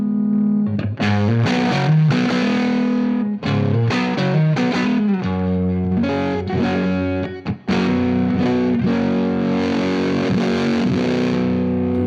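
Heavily distorted Fuzz Face-style fuzz pedal guitar playing loud, sustained chords and riffs with a thick, saturated tone, close and without voices.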